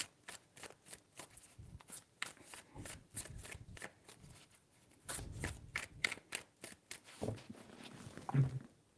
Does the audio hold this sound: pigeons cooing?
no